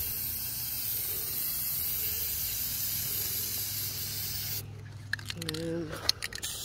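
A metal file cabinet being spray painted with a third coat, giving a steady close hiss of aerosol spray that runs continuously, then breaks off into a few short scrapes and bumps near the end.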